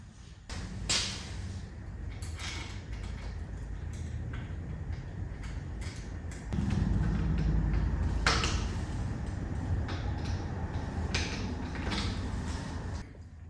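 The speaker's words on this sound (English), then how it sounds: "I'm going to go ahead and tighten these fenders down" Bicycle fenders on a Giant Boulder being tightened down, with repeated creaking and clicking mechanical turns and scrapes over a steady low hum, close and moderately loud.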